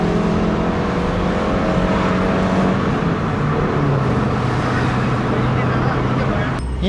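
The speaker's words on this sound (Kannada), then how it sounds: "ಗಾಡಿ ಎಕ್ಸಾಸ್ಟ್ ಸೌಂಡ್ ಕೇಳ್ತಾರೆ ಒಂಥರ ಖುಷಿ ಆಯ್ತದೆ" A Honda City car driving, its engine and exhaust giving a steady, loud broadband roar with a low droning hum throughout, road noise close by, and a short sharp rise near the end.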